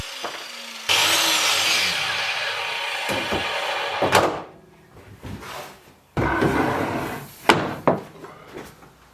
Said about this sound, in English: So here we'll start cutting the frames out and go from there.